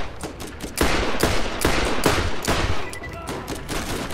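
Rapid revolver fire in Borderlands cracks out in a dense, uneven string of sharp, loud bursts, with several shots landing close together and a few brief gaps between them.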